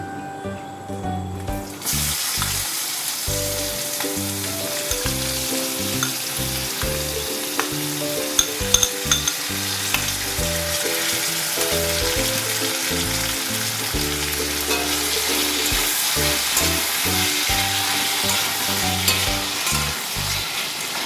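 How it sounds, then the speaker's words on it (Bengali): Loud, continuous sizzling of onions and chillies frying in a pan, close up, with a low musical tone running underneath. "আমি পেঁয়াজ আর কাঁচা লঙ্কাটা ভাজার জন্য দিচ্ছি"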